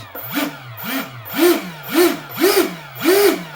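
An electric ducted fan on a model F-16 jet surges in about six repeated throttle bursts, each a rising then falling whine, loud and close with no talking.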